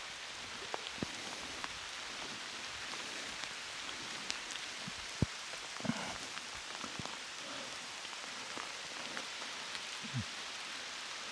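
Light rain pattering steadily outdoors at a campsite in Speyside, Scotland, with scattered drops tapping louder on nearby surfaces.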